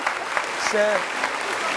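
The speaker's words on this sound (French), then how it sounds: "Je pense que c'est à applaudir déjà, les amis" Brief audience applause on a television talk show, a steady patter of hands under a speaking voice, with a short sung or whistled tone briefly rising above it.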